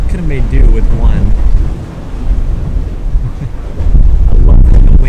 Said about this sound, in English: I love when the wind hits.